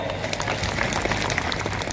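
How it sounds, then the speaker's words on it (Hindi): An audience at a Vishwa Adivasi Diwas rally in Dungarpur, Rajasthan claps for the drivers in a dense, steady stretch of applause that stays fairly loud for the whole two seconds. "उन ड्राइवर भाइयों के तालियां बजाई दोस्तों"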